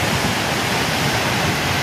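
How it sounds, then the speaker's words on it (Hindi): A tall waterfall at Jahaz Banda pours water from a great height, a loud, steady roaring rush that fills the whole moment without a break and with no voices. "पानी देखिए कितनी ऊंचाई से आ रहा है"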